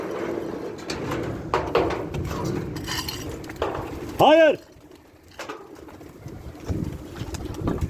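A pigeon coos once, a short rounded call standing out among household clatter and a voice speaking nearby.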